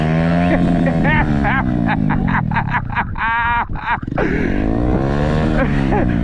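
A Herald Maverick 125 motorcycle engine revs up and down in close, loud swells, with a choppy stuttering burst in the middle before climbing again, while people talk over it.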